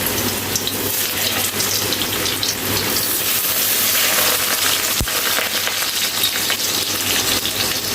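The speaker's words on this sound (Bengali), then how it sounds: "কড়াইয়ের তেল গরম হয়ে গেছে, এখন আমি এর মধ্যে আলুগুলোকে ভেজে নেব।" Potatoes fry in hot oil in a kadai for a vegetarian aloo dum, producing a loud, continuous hiss and sizzle close by, with one sharp knock midway and no voices.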